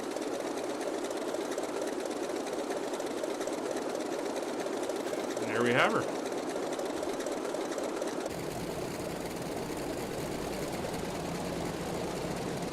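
The radial engine of a Grumman F3F in a flight simulator game runs as a steady, even drone throughout, while someone speaks briefly over it.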